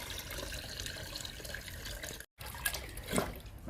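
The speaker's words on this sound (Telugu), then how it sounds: "ఇప్పుడు ఈ లిక్విడ్ని ఇండోర్ ప్లాంట్స్కి ఇచ్చేద్దాము" Liquid fertilizer poured onto indoor plants, a soft close trickle and splash with a brief break and a few drips, quiet overall.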